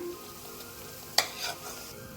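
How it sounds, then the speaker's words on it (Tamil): Bread slices frying in oil until brown make a low, even sizzle close by, with one sharp clink partway through and no talking. "அந்த மாதிரி எல்லா ப்ரெட்டுமே பொறிச்சு எடுத்துக்கிறேன்"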